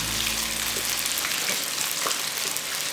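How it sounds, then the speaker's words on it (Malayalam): Chicken pieces sizzle and crackle steadily in a pan of hot oil, a continuous close frying hiss with scattered pops and a few stirring scrapes throughout. "ചിക്കനൊക്കെ ഇവിടെ ഫ്രൈ ആയിട്ടുണ്ട്"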